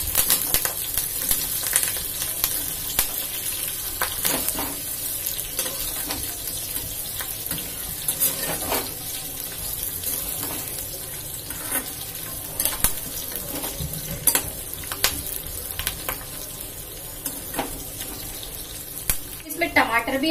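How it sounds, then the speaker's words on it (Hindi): Green chili, onion, ginger and curry leaves fry in oil for a paneer kofta curry masala, giving a steady, loud hiss of sizzling with occasional clinks and clatter throughout. "हरी मिर्च और प्याज के पीस, अदरक भी इसी तरह डाल देंगे, करी पत्ता भी ऐसे ही डाल देंगे और इनको हम सिर्फ 2-3 मिनट तक पका लेंगे"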